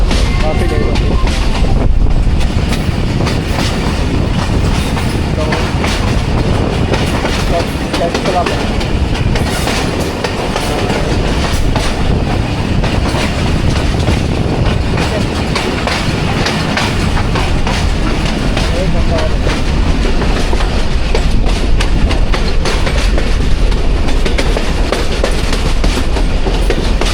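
The 13 UP Awam Express runs on rails between Rawalpindi and Attock, with a loud, constant rumble, rhythmic clickety-clack of wheels over joints, and heavy wind buffeting throughout.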